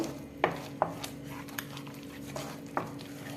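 Carrot halwa with almond milk being stirred in a pan at home, heard as a few sharp spoon-on-pan clinks and scrapes spaced irregularly over a low steady background hum.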